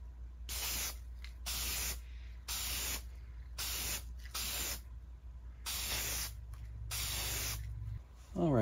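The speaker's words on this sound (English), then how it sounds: "I'm gonna give all these a good coating of primer just to help seal them" Aerosol primer sprayed onto old metal Athearn RDC model train parts, a series of close, steady hissing bursts of about a second each, separated by short pauses, with no voices.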